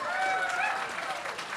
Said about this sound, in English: Can we have one more round of applause for Erica?